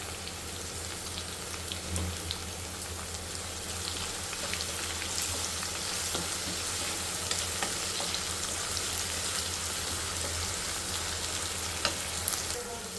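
Chopped ivy gourd (dondakaya) frying in a pan with salt, giving a steady close sizzle with crackling pops and occasional stirring scrapes, no voices.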